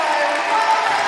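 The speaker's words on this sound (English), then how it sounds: "the crowd giving her absolutely fantastic round of applause" Crowd at a Crufts dog agility round applauding, a dense, steady wash of clapping filling the hall.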